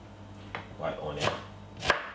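A knife chops a white onion on a cutting board while vegetables are prepared for couscous, giving a handful of crisp, separate close-up chops spaced irregularly over a quiet background.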